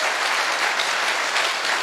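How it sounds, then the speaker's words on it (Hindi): Audience in a hall applauding loudly, a dense, continuous wash of clapping that stays steady and close throughout with no speech over it. "खुद के लिए जोरदार तालियां"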